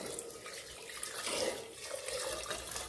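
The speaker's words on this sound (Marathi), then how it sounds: "ह्यात आता आपल्याला पाणी टाकून घ्यायचं आहे." Water poured into a pot of moong and masoor dal, a steady close splashing rush running the whole time without voices.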